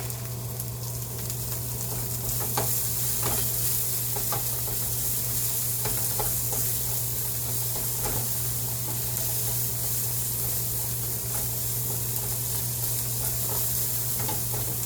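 Garlic sizzles steadily in a hot pan as a utensil stirs it, with a constant frying hiss broken by scattered scraping taps.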